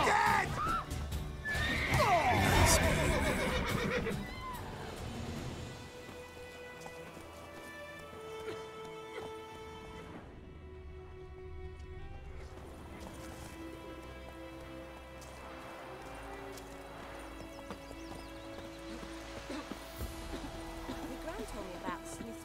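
Roach, a horse in The Witcher 3 video game, neighs loudly at the start, followed by a steady clip-clop of hooves with a pattering rain-like ambience, while someone talks over parts of it.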